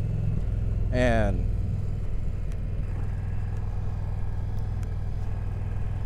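A Challenger bagger motorcycle being ridden, its engine giving a steady, deep rumble throughout, with someone talking over it.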